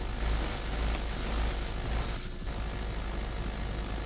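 A helicopter in the BattleBit video game drones steadily with a continuous rotor and engine roar, loud and constant for the whole stretch with a slight dip near the middle, no voices present.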